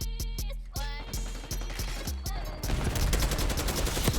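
A rapid burst of AK-74 automatic rifle fire in Call of Duty Black Ops 6, with sharp, loud shots first spaced apart and then blurring into dense continuous fire along with other game noise.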